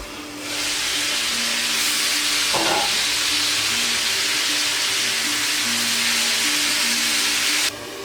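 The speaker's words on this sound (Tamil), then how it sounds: "லென்த் லென்த்தாக கட் பண்ணி வச்சுருந்த சிக்கனை இப்போ நம்ம வந்து பொறிச்சு எடுத்துக்கலாம்" Chicken cut into long strips fries in hot oil with a loud, steady sizzling hiss that fills the whole stretch and drops away abruptly near the end.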